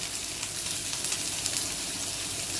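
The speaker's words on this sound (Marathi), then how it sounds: "त्यामध्ये कांदा आणि हिरवी मिरची आपल्याला दोन्ही आता एकसाथ परतून घ्यायचे." Onion and green chili sautéing together in hot oil after garlic has browned, a steady, close, dense sizzle with no talk over it.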